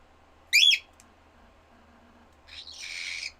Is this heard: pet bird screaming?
yes